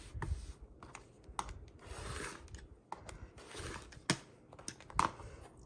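Rotary cutter trimming stacks of quilt fabric blocks against a weighted ruler, close rasping rolling strokes repeated in quick bursts with small taps and handling noise between cuts.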